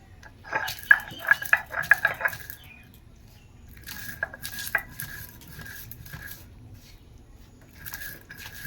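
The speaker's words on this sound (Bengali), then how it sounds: "আর আদা রসুন এটাকেও পিষে নেবো আর এই কলাই মুগ ডালটাকে এটাকেও পিষে নেবো" Ginger, garlic and kalai mung dal are ground by hand, giving bursts of scraping, knocking strokes in two rhythmic spells with a pause between, close and moderately loud.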